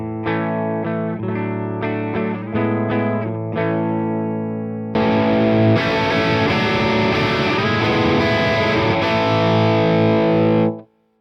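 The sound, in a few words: electric guitar clean tone through Soldano SLO Plus amp-in-a-box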